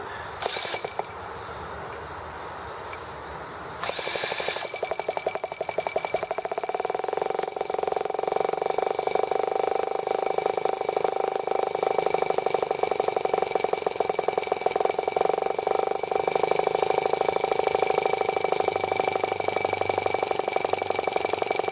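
The T1 vehicle's engine runs steadily while being driven, a continuous mid-pitched drone with a sustained hum and faint rattles, rising in intensity after a quieter start and holding loud throughout.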